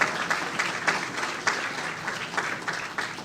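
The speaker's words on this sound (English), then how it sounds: "Let's give him another round of applause." An audience claps in a hall at a schools sports awards ceremony after a presentation, a short burst of fairly close applause with uneven accented claps throughout.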